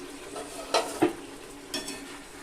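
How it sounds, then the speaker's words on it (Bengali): Mutton being stirred and fried with hot water in a pan for biryani: a few distinct scraping knocks of a utensil against the pan over a soft, steady sizzle, close and alone. "জলটা দিয়ে আবার একটু ভালোভাবে কষিয়ে নিব"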